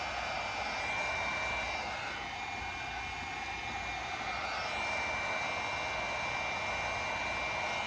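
A heat gun blowing hot air onto paint protection film on the top bumper of a 2024 Ford Mustang, a steady, close whooshing hiss like a hair dryer that holds constant without pause or talk.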